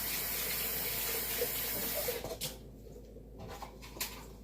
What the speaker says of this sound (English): Rinse the rest out down your garbage disposal if you have one.